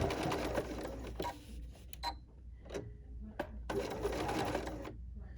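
A sewing machine over-sews a fabric heart ornament, a close whirring burst of rapid stitching that pauses and starts again, with someone talking over parts of it.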